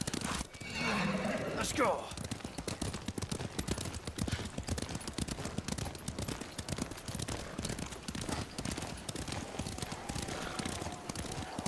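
Horses in Ghost of Tsushima neigh loudly and gallop with rapid, continuous clip-clop hoofbeats close by, while faint gunfire and a voice shouting briefly sit in the mix.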